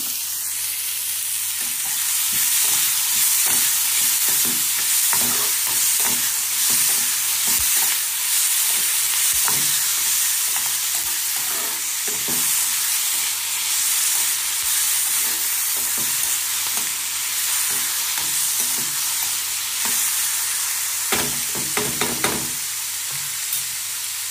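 Masala roasts and is stirred in a pan over a gas flame for a togarikalu masala dish, producing a loud, constant frying sizzle with steady rhythmic scraping strokes, a quick burst of clattering stirs near the end, and no speech.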